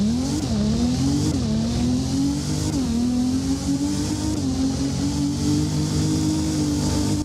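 A Nissan 350Z engine in the video game Driving Empire accelerating, revving up through several gear changes with rising and dropping pitch, loud and continuous with no talk.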